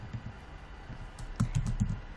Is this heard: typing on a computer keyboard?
yes